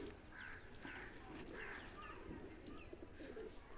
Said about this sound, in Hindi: फिर खिलाते हैं कबूतरों को